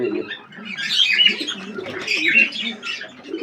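Native deshi pigeons cooing in a loft, steady overlapping low coos in slow swells with higher chirpy notes above, fairly close and without talk.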